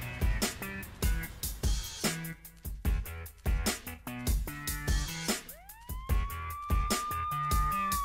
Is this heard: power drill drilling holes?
no